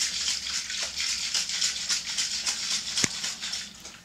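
A cocktail of rum and horchata is shaken in a shaker, giving a rapid, rhythmic series of icy rattling shakes, moderately loud and close, with one sharper knock near the end.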